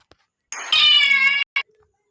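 A cat gives one drawn-out, fairly loud meow, close by, followed by a short softer chirp, with near silence around it.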